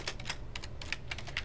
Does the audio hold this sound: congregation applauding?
no